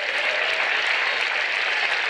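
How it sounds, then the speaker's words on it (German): Steady, even applause fills the room for the girls at a football club's 125th anniversary celebration, a uniform wash of many hands clapping without pause. "Und dann gibt es nochmal einen Applaus für euch"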